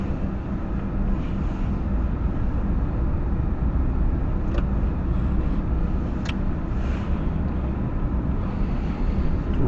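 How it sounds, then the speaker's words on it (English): A Mercedes-Benz W126 driving at night on an icy road, a steady low engine and road rumble heard from inside the cabin, constant and fairly loud, with a few faint clicks and no talk. "I'm gonna go for a little drive."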